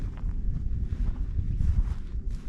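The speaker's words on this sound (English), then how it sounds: "Fairly windy most of the time, so if you're having a hard time hearing me," Strong wind buffets a microphone outdoors on a snowy farm, a steady low rumbling roar with gusts that swell and ease throughout, and no talk.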